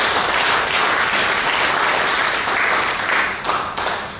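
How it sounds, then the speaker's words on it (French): A French-speaking gathering applauds, a loud sustained burst of many people clapping together that holds steady for several seconds before easing off slightly at the end. "On s'applaudit comme ça."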